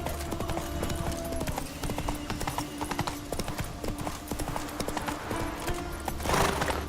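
A horse gallops in The Witcher 3 video game, with rapid, steady hoofbeats that run throughout, close and prominent, and a brief whinny near the end.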